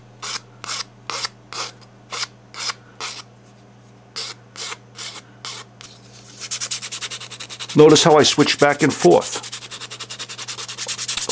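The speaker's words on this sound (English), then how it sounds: "Finer sanding with the sandpaper, rougher sanding with the file." A watercolor paper jewelry pendant is sanded with sandpaper and a file, making a series of brisk, evenly spaced rasping strokes. After a pause the scraping resumes, denser and under a voice.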